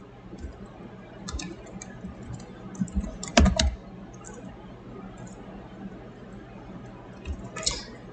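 Keys tapped on a computer keyboard in scattered, quiet clicks with a brief cluster of louder strokes midway, no voices.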